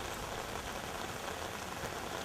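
Heavy rain pours steadily, a dense even hiss with no letup, filling the scene outdoors with no voices.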